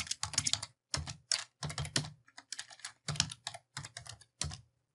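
Keystrokes on a computer keyboard while typing a definition into a Word glossary, coming in quick clustered bursts separated by short pauses, close and clear with no talking.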